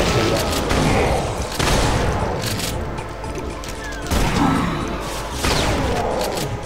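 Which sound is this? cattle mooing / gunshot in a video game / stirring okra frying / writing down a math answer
gunshot in a video game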